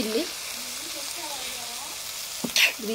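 Chapathi noodles fry in a pan with red chilli sauce, a low steady sizzle running under a voice, followed by a brief louder burst of stirring near the end.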